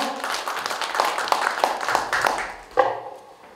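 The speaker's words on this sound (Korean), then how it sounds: "박수로 맞아주시죠" Scattered applause greets a presenter at an Art Korea broadcasting culture and arts awards ceremony, a run of sharp, uneven claps in a hall that thins out and fades near the end.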